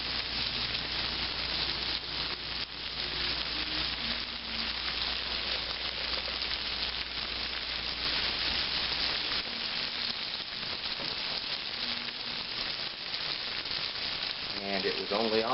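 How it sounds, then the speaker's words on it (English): Food frying in a pan over a medium flame for a creamy chicken poblano dish, a steady loud sizzle and crackle throughout, with brief voice near the end. "we'll continue to fry these on a medium flame"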